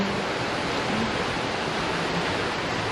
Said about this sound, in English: look at the waterfall in the back